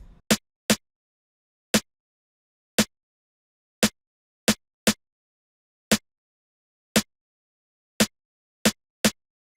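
Programmed snare sample in an amapiano beat, a dozen sharp isolated cracks in a sparse, uneven pattern with silence between hits, dry and close.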